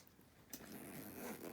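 A zipper pulled along the top of a bag's main compartment, with sturdy heavy hardware, gives a single soft, smooth zip that rises after a quiet start and carries on steadily. Very faint and close, with no talk over it.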